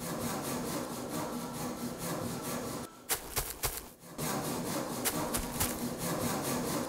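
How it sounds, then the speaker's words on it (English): A steady, loud saw-blade rasp from termites in the video game Factorio 0.16 runs throughout, breaking off for about a second midway into a few scattered clicks before the grinding drone resumes. No voices. "You hear like the saw blade sound in the background."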